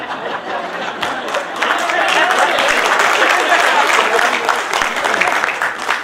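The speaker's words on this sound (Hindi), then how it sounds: "ये जिन्होंने ताली की शुरुआत की, ये वर्क फ्रॉम होम की पीड़ित है लगता है।" Audience applause at a Hindi comedy poetry gathering (hasya kavi sammelan) swells from scattered claps into loud dense clapping, with chatter and light laughter mixed in.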